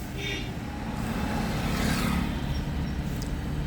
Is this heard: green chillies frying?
no